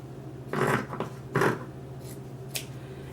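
Scissors cut fabric for a handmade reusable shopping bag, with two distinct snipping strokes up close and a faint third, quiet otherwise.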